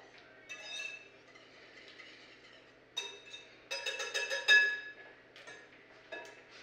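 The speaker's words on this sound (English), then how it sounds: "we will just kind of give that a little stir, mix that up really well" Whisk stirring an egg mixture in a bowl, light clinks and scraping taps in irregular bursts, fairly close and quiet.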